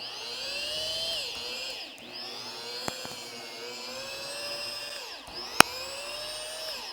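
A Seesii rotary polisher whirs loudly on car paint, its motor pitch sagging and recovering several times as pressure changes, with a couple of sharp clicks along the way.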